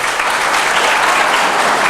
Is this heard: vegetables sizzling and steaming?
no